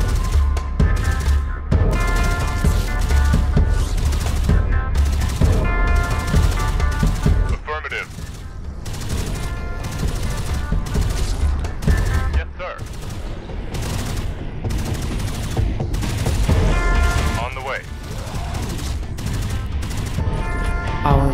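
Heavy automatic gunfire rattles almost without pause as a base comes under attack in the strategy game MarZ Rising, loud and dense, with brief breaks and occasional booms.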